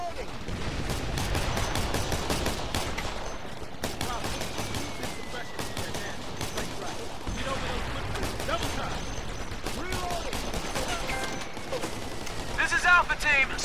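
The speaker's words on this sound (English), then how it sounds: "We're getting shot!" Rifle gunfire in the video game Operation Flashpoint: Red River crackles as rapid, dense bursts of shots throughout, with mechanical clatter and sharp reports while voices call out over the firefight.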